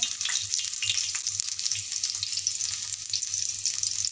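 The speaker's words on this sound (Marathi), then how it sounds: "तर आता तेल तापलेलं आहे, त्यामध्ये मी कांदा सोडत आहे।" Onion drops into hot oil in a pan and fries with a loud, steady close sizzle and crackle, with no one speaking.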